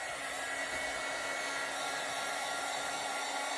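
A hair dryer blows steadily on a t-shirt to dry it before heat setting, a constant broadband whoosh held at even volume with no pauses or voices throughout.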